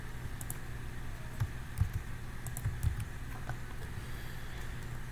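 A password is typed on a computer keyboard in a quiet room, a short run of soft clicking keystrokes close by, with no one speaking.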